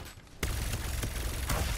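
Gunfire during a firefight in the battle royale shooter Farlight 84, a sudden burst starting about a third of the way in and continuing as dense, loud rapid shots with a few sharper cracks.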